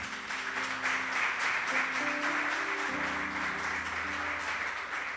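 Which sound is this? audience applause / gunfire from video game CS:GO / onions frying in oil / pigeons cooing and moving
audience applause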